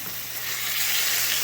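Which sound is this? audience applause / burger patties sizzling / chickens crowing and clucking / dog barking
burger patties sizzling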